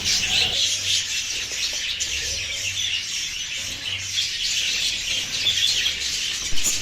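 Budgerigars and finches kept for sale chirp and tweet together in a busy, continuous chatter, bright and fairly close, with no talking.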